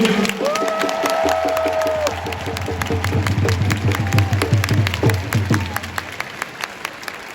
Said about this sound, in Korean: I will ask everybody here to give the biggest round of applause to the players.